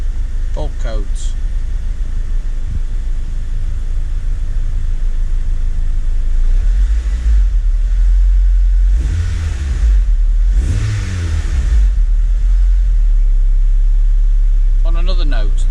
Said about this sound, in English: the new exhaust actually sounds quite nice